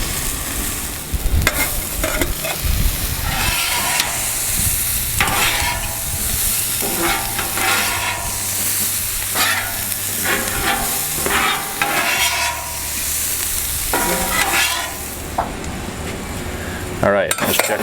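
Beef fried rice sizzles steadily on a Camp Chef FTG600 flat top griddle, with repeated scraping and clinking of metal spatulas stirring and tossing it throughout.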